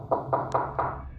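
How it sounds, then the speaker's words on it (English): Four quick, evenly spaced knocks on a door sound close and clear, followed by a short fading tail, with no voices. "You're knocking again."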